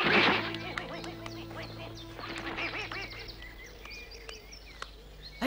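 A fat goose in an animated farmyard scene gives a series of nasal, honking quacks, close and fairly loud, spaced irregularly over a faint steady background hum.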